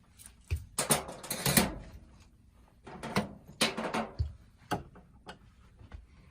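Screws being turned out of a wall light switch faceplate with a screwdriver, giving scattered close clicks, scrapes and ticks of metal and plastic with short pauses between them.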